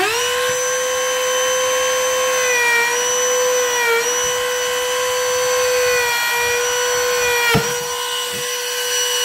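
A podiatry drill fitted with a polishing mop smooths a cavity, producing a loud, steady high-pitched whine that dips slightly in pitch as it bears down, with a sharp click near the end.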